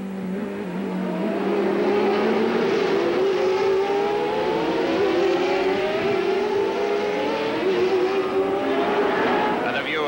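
1990 CART race cars scream past at the Denver Grand Prix street race, loud engines revving with rising and falling pitch sweeps as several cars pass close, under continuous commentary.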